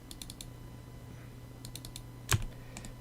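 Computer mouse clicks while modeling a drink can in Maya, faint quick clicking in small clusters over a low hum, with one louder knock near the end.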